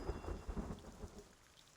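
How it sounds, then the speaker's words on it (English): A thunderstorm in Reverse: 1999 rumbles low and heavy with rolling thunder over steady rain, the rumble fading toward the end with scattered raindrop ticks. "You got some storms storming."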